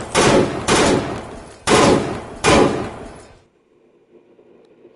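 Full-auto gunfire in the Roblox video game: four loud, sustained bursts of rapid shots in close succession, each under a second, followed by a quiet, faint tail.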